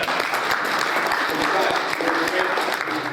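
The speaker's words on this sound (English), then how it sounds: "Give yourself a hand." At a Martin Luther King Jr. celebration held by the Schenectady Human Rights Commission, the audience claps together in a full, continuous round of applause that holds steady at even loudness throughout.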